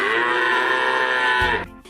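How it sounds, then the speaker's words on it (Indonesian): A single long, loud cow moo, steady and close, trailing off abruptly at the end. "sapi"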